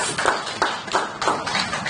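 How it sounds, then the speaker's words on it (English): Rhythmic clapping from a Rotary conference audience, steady and fairly loud, filling the space without any talking. "Let's give past District Governor Eddie Mbadiwe a round of applause"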